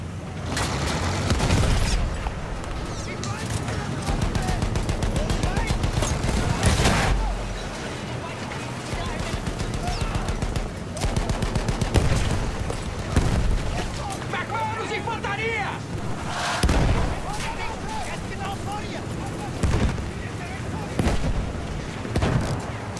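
Dense battlefield din from Battlefield 1: rapid gunfire and heavy artillery booms pound almost nonstop, with loud explosions standing out, mixed with shouting voices and chatter throughout.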